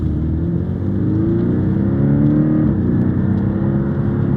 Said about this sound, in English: already just listening, you know, it sounds like a Subaru Boxer engine